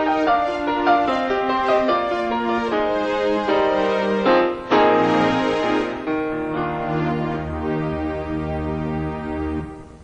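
Two MIDI-linked synthesizers layer a piano voice over a sustained strings pad, with a steady sequence of struck chords ringing over the held strings for about ten seconds, with no talk.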